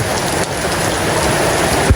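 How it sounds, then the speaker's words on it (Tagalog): Heavy rain pours down in a dense, loud, continuous hiss of drops hitting surfaces, with no voices. "Lalong lumakas yung ulan mga katuwang."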